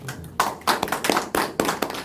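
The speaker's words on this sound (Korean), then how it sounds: "큰 박수로 환영해 주십시오." Applause breaks out at a regional policy forum after a brief quiet moment, a dense crackle of many hands clapping in bursts that rise and fall, fairly close and loud.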